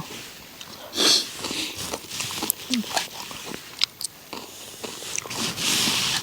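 Close, crunchy biting and chewing as kimchi and spicy Cheongyang chili are eaten outdoors at a high mountain backpacking campsite, with irregular bites and soft vocal sounds in between.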